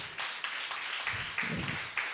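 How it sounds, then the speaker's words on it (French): Faint audience applause at a youth media event, a steady wash of many hands clapping with irregular sharper claps poking through, distant and fairly quiet throughout. "Est-ce qu'on peut applaudir, s'il vous plaît?"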